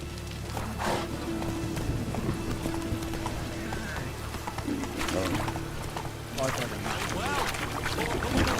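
Roach the horse galloping in The Witcher 3, rhythmic clip-clop hoofbeats running steadily under ambient game sound, with occasional voice-like sounds layered on top.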